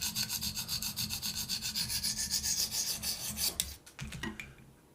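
A KME sharpener stone rasps back and forth along a knife blade in a steady, close rhythm of repeated strokes, loud and alone, slowing to a few separate scrapes at the end.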